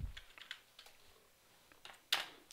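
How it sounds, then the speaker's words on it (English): A few scattered clicks and taps of typing on a computer keyboard, faint and close, with quiet pauses between them and a sharper clack near the end. "we're just typing straight on screen"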